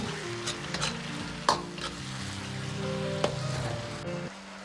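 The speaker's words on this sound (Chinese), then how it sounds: "接着倒入青红椒片，翻炒均匀。" Green and red pepper slices and oyster mushrooms are stir-fried in a wok with soy sauce, sizzling continuously under repeated scraping and tossing strokes and a couple of sharper clanks, with no voices.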